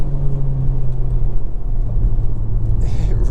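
A Honda Civic Type R FK8 with a 2.0 i-VTEC engine brakes hard and downshifts into a corner, heard from inside as a loud, steady low engine and road rumble that shifts in pitch.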